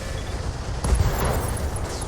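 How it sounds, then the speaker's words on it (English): Short-range missile ammunition exploding inside a mech in the Battletech strategy game, a dense rumbling burst of crackling blasts with a heavy low-end thump, loud and close. "That's an SRM ammo explosion."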